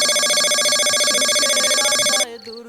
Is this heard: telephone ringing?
yes